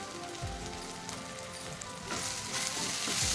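Tomatoes with turmeric and salt fry in a pan, giving a close, crackling sizzle with a few soft stirring scrapes, the hiss growing brighter toward the end; no talking.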